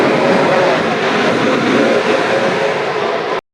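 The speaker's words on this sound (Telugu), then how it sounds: "ఇదిగోండి మా ట్రైన్ అయితే వచ్చేస్తుంది" A passenger train pulls into a station on a journey toward Tirupati from Vijayawada, a loud, steady rumbling roar close by that cuts off abruptly at the end.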